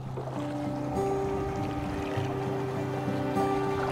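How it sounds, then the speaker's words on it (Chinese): A small fishing boat on the water near a coastal fishing village, its engine giving a steady low droning hum with tonal whine, close and continuous amid faint lapping water and wind. "每天他都会驾着小船下网捕鱼。"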